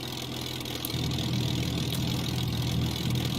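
A Supermarine Spitfire Mk1a piston engine in Microsoft Flight Simulator idles with a low, steady, slightly knocking rumble that grows fuller after about a second and then holds constant.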